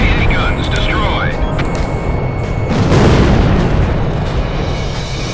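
Anti-aircraft guns blow up in Ace Combat Zero: The Belkan War, with a loud rolling boom swelling midway through a dense roar of jet engine and battle noise, and a voice speaking over the din.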